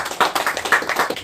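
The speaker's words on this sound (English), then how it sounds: "And hand claps." A short run of sharp hand claps in an uneven rhythm, about eight strikes spaced a little apart, fairly close and clear with no talking over them.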